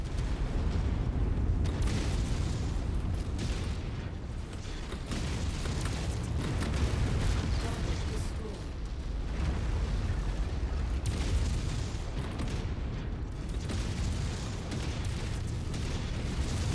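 Explosions of destroyed targets in the video game MechWarrior 5 boom one after another in a dense, constant rumble, with bursts, cracks and creaking metal layered through the whole stretch and almost no speech.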